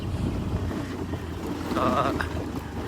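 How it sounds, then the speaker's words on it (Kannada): Steady cool wind rushing across the microphone at a hidden nature spot near Kittur, a constant broadband roar with a brief faint tonal sound partway through. "ಫುಲ್ ತಂಪು ಗಾಳಿ ಬರತೈತ್ರಿ ಇಲ್ಲೇ"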